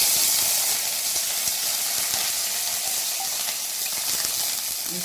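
Curry leaves hitting hot oil in a pan while cooking a green gram curry, a steady loud hiss and crackle of frying that fades slightly over the seconds.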